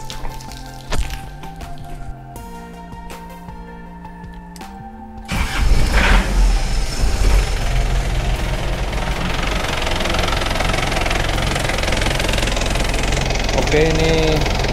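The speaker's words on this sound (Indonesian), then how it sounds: "mesin mobil kita nyalakan" Chevrolet Luv engine being started during a home radiator descaling, with a cranking whir and then a catch into a loud, rough, steady idle with some knocking, following tonal beeping from the dashboard.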